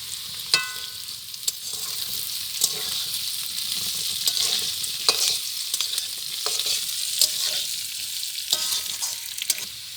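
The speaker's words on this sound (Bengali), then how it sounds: "তো এরকম ভাজা হয়েছে, আর একটু ভাজা হবে, আর একটু ভাজা হলেই তুলে নেব।" Cauliflower frying in a pan gives a steady, close hiss of sizzling oil, broken every second or so by the scrape and tap of a stirring spatula, with no voices.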